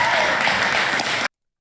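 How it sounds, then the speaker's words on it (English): Crowd applauding and cheering at a rally, loud dense clapping that cuts off abruptly into silence. "You always cheer when the suggestion of firing a journalist is made."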